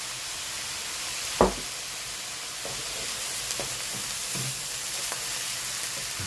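Egg fried rice frying in a pan with soy sauce, a constant steady sizzle with a few sharp clatters and stirring scrapes, close and moderately loud.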